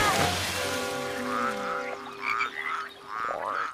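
Toads croak in a countryside scene, a chorus of rising, twangy calls repeated over about four seconds against a bright, busy background, with no talk.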